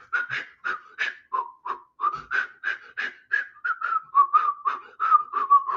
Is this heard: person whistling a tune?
yes